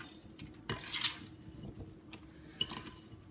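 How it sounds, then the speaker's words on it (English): Spoon stirring fresh blueberry pie filling in a bowl, soft scraping and wet sloshing strokes in a few close, quiet bursts with no talking. "as soon as I finish stirring up my blueberries"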